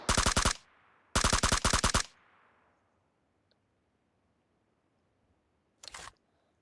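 Automatic weapon fire from the PUBG video game comes in three sharp, rapid bursts, two long sprays close together and a short one after a quiet gap, with faint room tone between.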